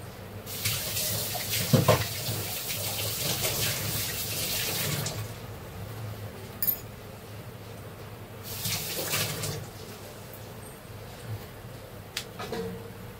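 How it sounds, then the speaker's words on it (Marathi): Water gushes from a tap into a vessel for several seconds, stops, then runs again briefly, with a few clinks of utensils in between. "त्याच्यातच आता हे मी पाणी टाकते"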